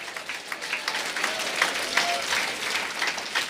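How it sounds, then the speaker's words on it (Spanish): A church congregation breaks into applause during a Quechua-language worship service, a steady patter of many hands at moderate, slightly distant volume. It stays fairly even throughout, with a faint voice audible beneath it. "Fuerte aplausos, aleluya."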